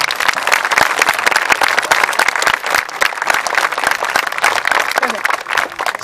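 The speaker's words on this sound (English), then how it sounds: "if you want to give him a round of applause, this will be the time" Loud, close audience applause for a guest at an event with Pennsylvania Governor Tom Corbett, a dense continuous clatter of many hands lasting several seconds.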